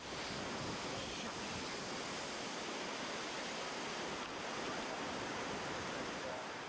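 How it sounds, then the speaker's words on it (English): High storm surf up to ten feet on extreme high tides, crashing onto the beach at Del Mar, San Diego, alongside strong wind, a dense, continuous roar of water and wind noise, no voices. "waves up to 10 feet carried on extreme high tides came crashing through Del Mar"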